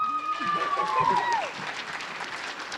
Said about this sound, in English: Please join me in a round of applause for all of our 7th grade Ready Writing participants.